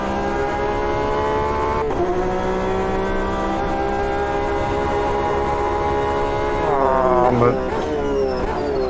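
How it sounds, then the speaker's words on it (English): A racing car's flat-six engine in Automobilista 2, a loud steady harmonic howl held at high revs, with pitch shifts near the end as the car changes speed. "this flat six really does sing"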